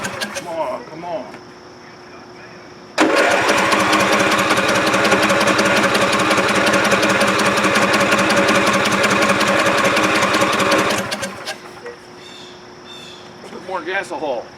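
John Deere LA 145 V-twin mower engine with a fuel delivery problem, roaring loud and steady for about eight seconds before cutting out, with talking and birds heard before and after.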